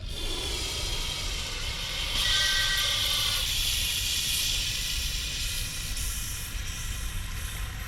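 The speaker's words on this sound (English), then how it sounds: "Follow up with a little brake cleaner." Brake cleaner sprayed from an aerosol can onto a part of a 1964 Pontiac Catalina barn find, a steady close hiss that runs for several seconds without a break.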